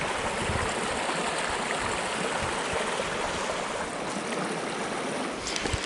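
River rapids rush over large boulders in a trout stream, a steady, dense broadband roar of churning water that holds constant and close throughout, with no voices.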